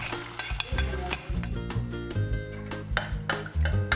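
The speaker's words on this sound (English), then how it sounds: "She simmers them with the oil and basil without any garlic or onion." Chopped tomatoes simmer and sizzle with oil and basil in a pan, no garlic or onion, while a utensil stirs and scrapes against the pot in quick bursts, close and moderately quiet.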